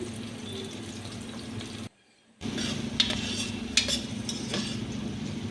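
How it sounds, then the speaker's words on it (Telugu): Sliced onions fry in a pan while a utensil stirs and scrapes. There is a soft, steady sizzle with occasional clinks and a brief silent gap partway through. "ఈ రెండు అనేది మంచిగా ఫ్రై అయ్యే వరకు వెయిట్ చేయాలి"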